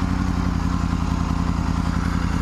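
Triumph Tiger 900 GT Pro motorcycle engine running warm just after leaving the dealership, a steady close, loud throbbing idle with a dense rhythmic low pulse and light mechanical clatter throughout, no voices.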